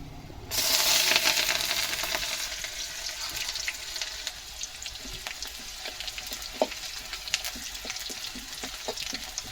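Onions drop into hot oil in a kadai already holding bay leaf, cinnamon, cloves and peppercorns for kadai chicken. A sudden loud sizzle bursts up and then settles into a steady, crackling fry with scattered pops.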